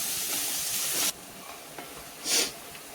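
Onion sautés in ghee in a pan, giving a bright, hissing sizzle that stops abruptly, followed by quieter crackles and one short, sharp burst of hiss.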